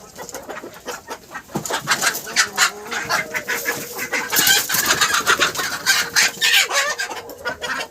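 Several native desi hens, including a large red-and-black one, clucking and squawking close by in a repeated, uneven series, with faint background bird calls.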